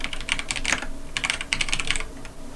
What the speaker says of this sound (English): if you type spousal abuse help in Google